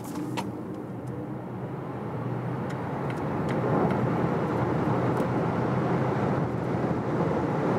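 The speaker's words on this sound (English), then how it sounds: "So now accelerating it all out." A 2022 Volvo XC40 Recharge pure electric twin-motor AWD car accelerating hard from low speed, with steady road and wind roar building in loudness inside the cabin and no talking.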